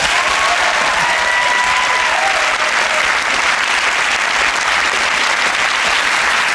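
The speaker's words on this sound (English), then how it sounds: "A round of applause for our stars." Sustained, dense applause from a TV panel-show studio audience, loud and steady throughout with no pauses, a few faint whistles or voices mixed into the clapping.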